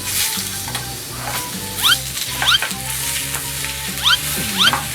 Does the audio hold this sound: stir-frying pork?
yes